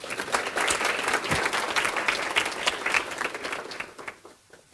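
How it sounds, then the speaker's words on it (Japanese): Applause for elected children's assembly members at a youth council session in Miharu, Fukushima: steady, dense clapping from a hall audience that holds throughout and tapers off at the end. "もう一度盛大な拍手をお願いいたします"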